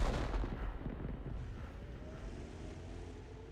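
An artillery gun fires a shell in World of Tanks: a deep, heavy boom that opens the clip and rolls away into a long rumbling decay, fairly faint, with no talking over it.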